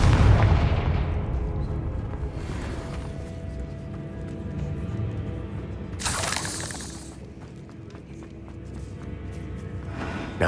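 Spell blasts in Hogwarts Legacy, a Confringo fire-curse explosion bursting amid a busy game soundscape, with a sharp bright crackling burst near the middle and low rumbling impacts throughout.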